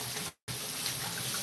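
Tap water runs into a kitchen sink as burger ingredients are rinsed, a steady close splashing stream broken by one brief silent gap before the flow resumes.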